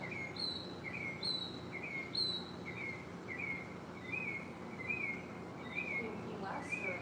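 A bird sings a repeated, evenly spaced series of short whistled phrases, clear but moderately distant over a soft background hum, with no one speaking.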